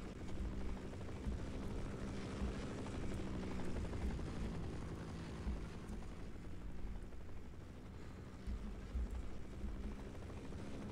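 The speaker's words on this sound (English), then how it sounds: "Do I kill the helicopter yet?" A helicopter drones steadily throughout in Half-Life, a low, rumbling rotor wash filling the whole clip at a constant, fairly loud level.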